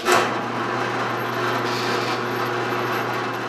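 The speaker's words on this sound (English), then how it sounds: "I'm going to go ahead and drill these pilot holes" A steady, high-pitched whine of a power drill boring pilot holes into wood for a routered bowl, running continuously at an even speed.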